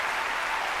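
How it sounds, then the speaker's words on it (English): Opera audience giving a standing ovation, broad dense applause filling the whole moment at steady loudness with no pauses or voices. "the crowd is tricked into giving the opera a standing ovation"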